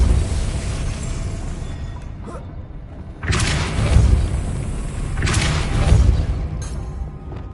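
Two heavy magical spell blasts from Confringo and Depulso in Hogwarts Legacy, each a sudden booming burst with a rumbling decay, set over a low continuous ambient drone.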